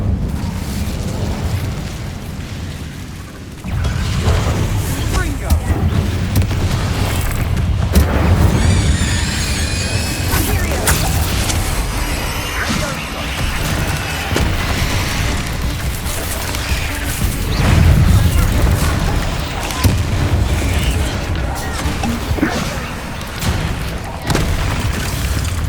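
An Incendio fire spell cast in Hogwarts Legacy, a video game, erupts in loud, sustained booming blasts and crackling bursts that roll on without a break.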